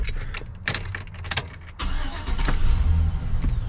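A car engine cranks and catches, then settles into a steady low idle, close by, with some handling clatter and rustle before it turns over.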